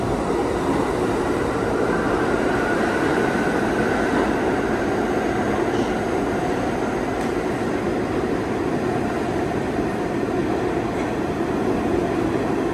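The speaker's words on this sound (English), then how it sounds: "Express train going by." An R62 subway express train roars past a 28th Street station in a continuous, loud rush of rumbling and clattering wheels that holds steady throughout with no voices.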